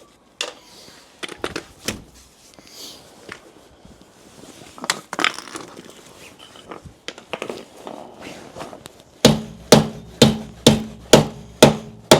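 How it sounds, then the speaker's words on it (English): Tapping on a stuck alloy wheel rim from a BMW to free it, with scattered knocks early on, then a sharp run of six or seven evenly spaced, loud metallic blows near the end. "Give that a tap on the rim."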